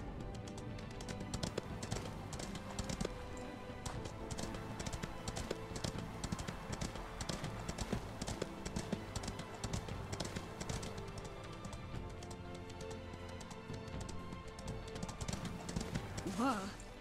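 Horse hooves in the Ostwind video game clip-clop in a steady rhythmic gait over background game music, with a player talking now and then.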